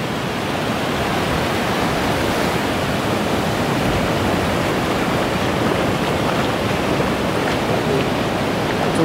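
Sea waves off Sầm Sơn beach in Thanh Hóa rush past a boat heading out to open water, a loud, unbroken roar of water and wind that fills the whole stretch without any speech.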